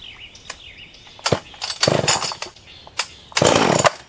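A Husqvarna 44 chainsaw fitted with a new carburettor kit, cold-started at half throttle: short pull-cord rasps and brief sputtering catches, then a louder burst of the two-stroke engine near the end, close to the microphone.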